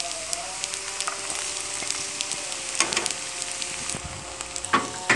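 Caramelized onions fry in a pan as dry spices go in for butter chicken, a steady close sizzle broken by scraping stirs and a few louder crackling bursts.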